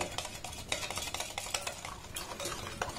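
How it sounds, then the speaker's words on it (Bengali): A sugar mixture for eggless Bapuji cake batter is worked by hand in a bowl, giving a quick run of clinking and scraping strokes that stays close and steady throughout. "এবার এটাকে আমি 5 থেকে 7 মিনিট সময় দিয়ে খুব সুন্দর করে ব্লেন্ড করে নেব।"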